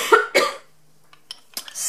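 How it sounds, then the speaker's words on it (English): Two harsh coughs come in quick succession close to the microphone, followed after a pause by a few quieter breaths and faint noises. "I'm going to have to cough."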